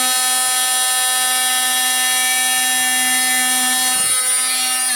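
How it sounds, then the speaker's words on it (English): An oscillating multi-tool saw cutting away construction foam around door trim, a loud steady high-pitched buzz running the whole time close by, with a slight change in tone near the end. "I'm going to come through with my oscillating saw"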